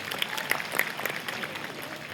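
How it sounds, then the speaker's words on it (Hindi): Audience applause at a university spring festival, a steady wash of clapping with a few sharper claps standing out, moderately loud and continuous with no talk over it. "और इसके लिए एक बार दोबारा तालियां बजा दें"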